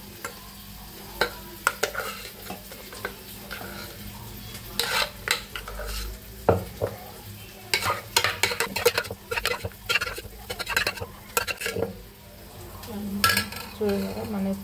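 Hot vegetable pongal is scooped and scraped into a small takeaway box in a cloud kitchen, with a series of close, irregular clinks and scrapes of a metal spoon against the container and some soft wet patting in between.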